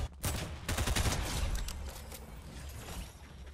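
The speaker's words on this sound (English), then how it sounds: "Alright, there's another guy shooting over here." Gunfire in the Fortnite video game comes as a quick flurry of rapid shots in the first couple of seconds, then fades into softer rattling and quieter background noise.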